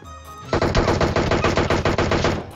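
Sustained automatic gunfire in PUBG, a rapid, loud burst of shots that starts abruptly after a brief quiet moment and continues in a steady, dense rhythm to the end.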